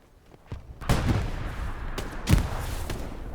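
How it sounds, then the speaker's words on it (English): In Hell Let Loose, a grenade bursts with a heavy boom, followed by a second loud blast and scattered distant gunfire thumps in the battlefield background. "Nice grenade there."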